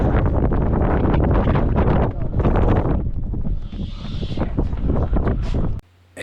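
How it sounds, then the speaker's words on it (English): Strong wind buffets the microphone on a boat out fishing for blackfish, a loud continuous roar that eases briefly midway before cutting out near the end. "There's the wind."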